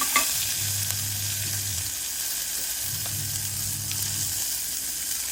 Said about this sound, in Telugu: జీలకర్ర, కొంచెం ఆవాలు, కొంచెం మినపప్పు, వెల్లుల్లిపాయలు, ఎండుమిరపకాయ, కరివేపాకు వేసుకుని ఇలా పోపు వేగిన తర్వాత